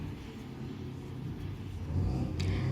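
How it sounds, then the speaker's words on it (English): A neighbor's car engine revs in the background, a low, steady rumble that swells louder toward the end, with no one talking. "My neighbor has decided to rev his car."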